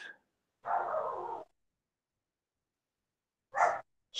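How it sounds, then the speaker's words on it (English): A puppy gives two short barks indoors, first a longer, fairly loud bark, then a quick, sharper one a few seconds later, with silence in between. "I think puppy's saying snack time. He's barking my poor tenant up."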